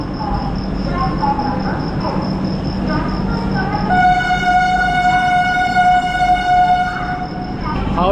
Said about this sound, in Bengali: হাওড়া পুরী সুপারফাস্ট এক্সপ্রেস ভুবনেশ্বর থেকে ছেড়ে দিল।